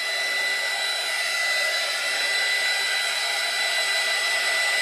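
A hair dryer runs steadily and close by, drying alcohol inks on ceramic tiles, with a constant airy roar and a faint high whine that holds throughout.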